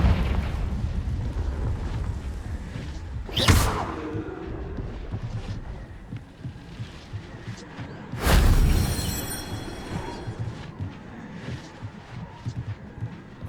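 Two loud fiery blasts from the Confringo spell in Hogwarts Legacy, one sharp burst around four seconds and a bigger rumbling one near eight, set over steady game ambience.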